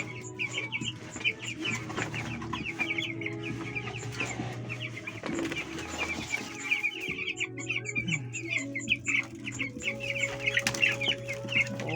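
Nine-day-old chicks being fed, a busy chorus of small peeps and chirps close by over a low background hum, continuous throughout.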